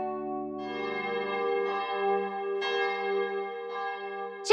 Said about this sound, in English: Chippy, did you hear that bell?